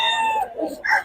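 A gamecock rooster of the Sweater Gilmore line crows once, a loud, close call with a rising then falling shape, ending in a brief higher note.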